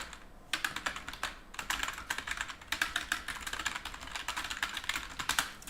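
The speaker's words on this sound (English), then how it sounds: "if I type in something like this" Rapid typing on a computer keyboard, with dense, continuous key clicks in quick uneven bursts, close and fairly quiet, with no talking.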